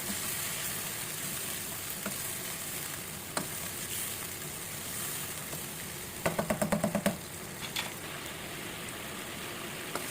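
Chicken with yogurt sizzling in a pan, a steady frying hiss throughout, with a few sharp spoon or spatula clinks on the pan and a quick rattling burst of stirring partway through.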